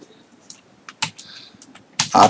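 A computer keyboard is tapped during a PowerPoint tutorial: a handful of separate, close keystrokes spaced irregularly, ending in a quick louder cluster of clicks.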